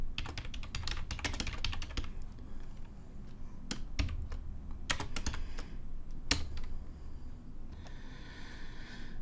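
Rapid clicking of keys on a computer keyboard, with bursts of quick typing broken by pauses and single sharper taps, close and fairly quiet with no talking.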